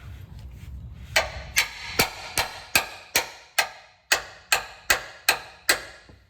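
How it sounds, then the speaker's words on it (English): A hammer strikes a wrench on a stuck bolt about a dozen times in a steady, sharp rhythm, each clang ringing briefly before the next blow, while replacing trailing arms on a Lexus LX470. "I'm just gonna beat it with a hammer"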